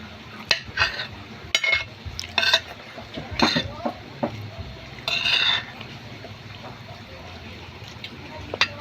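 Dishes being washed produce intermittent clinks and clatters of pots, plates and cutlery in a home kitchen, with scattered moderate knocks and quiet background sounds.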